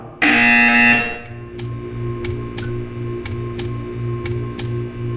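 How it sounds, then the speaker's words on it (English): Buzzer in the video game Portal 2 sounds as a loud sustained electronic tone for about a second, followed by a steady low hum with a regular series of sharp ticking clicks. "You will hear a buzzer."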